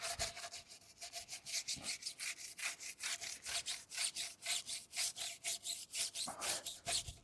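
Brush scrubbing a wet car tire and wheel in rhythmic back-and-forth strokes, bristly rasping bursts repeating steadily at close range, with no voices.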